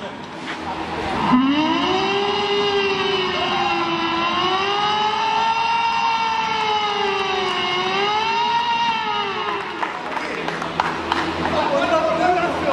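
A child imitates an ambulance siren with a loud, continuous wailing voice that rises and falls in slow waves for several seconds before breaking off into chatter.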